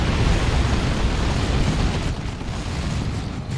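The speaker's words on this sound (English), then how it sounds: "Tank Buster Barrage" Explosions from a Tank Buster Barrage in Dawn of War 2, an Ork versus Chaos Space Marines battle: a dense, loud rumble of blasts and booms that rolls on steadily throughout, easing slightly toward the end.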